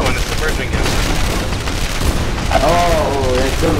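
Mortar explosions in the Narco Terror co-op video game, on the jungle mission, come as dense booming blasts and crackling gunfire over game sound, with a player talking and exclaiming throughout.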